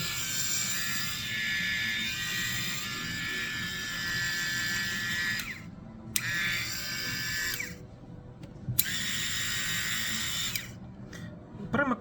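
A DSP 60087 rotary men's multifunctional electric shaver runs with a continuous buzzing hum that briefly drops out a few times. It is heard close and steady throughout.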